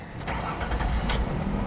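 A 1996 Ford Taurus station wagon engine cranks briefly and catches, rising into a rough running idle that continues close by without pause.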